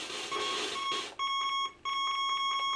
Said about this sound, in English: the sounds, even by my experience, they are very high-pitched